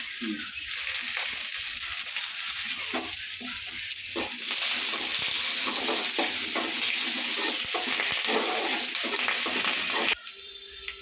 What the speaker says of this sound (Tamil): வெங்காயம் வதங்கிடுச்சுப்பா